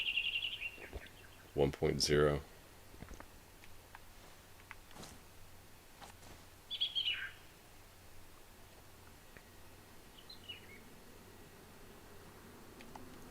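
Ambient bird calls from the DayZ video game: a few short, high chirps scattered through quiet outdoor background noise, with brief rustling and a single spoken word.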